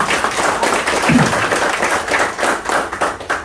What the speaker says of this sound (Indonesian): Tepuk tangan buat ibunya ya.